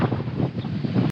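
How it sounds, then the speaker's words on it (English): Strong wind buffeting at a rough, choppy beach during a thunderstorm, a steady loud roar of gusts and surf with no voices. "Oh, the water's pretty rough today. Pretty windy."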